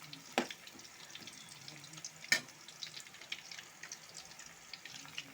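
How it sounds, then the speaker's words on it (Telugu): Bitter gourd pieces, halved and washed, frying in oil, a low crackling sizzle with sharp clinks and scrapes of a utensil against the pan, close and without speech. "ఇవి ఆయిల్లో ఇట్లా వేసి సగానికి కట్ చేసి ఇవి మంచిగా కడిగి కట్ చేసి ఇట్లా ఆయిల్లో వేపుకోవాలి"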